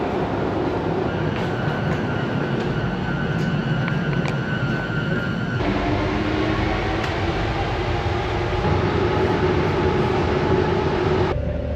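A Paris Metro train rumbles loudly and steadily from inside the carriage, with a continuous roar of wheels on rails, a thin high whine and faint clicks, shifting in tone partway through the ride.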